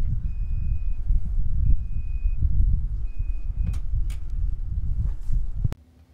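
The power tailgate of a 2020 Chevrolet Silverado 1500 LTZ pickup closes with a low motor hum and three spaced warning beeps, then a sharp latching clunk followed by near silence.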